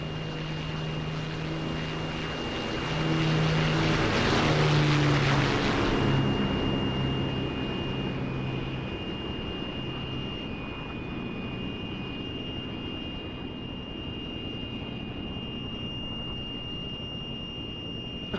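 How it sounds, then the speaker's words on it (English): P-40 Warhawk propeller fighter in the DCS flight simulator, engine drone swelling to a loud pass around the middle and then easing back to a steady hum, with no speech. "that has to be Warhawk coming up on my starboard side"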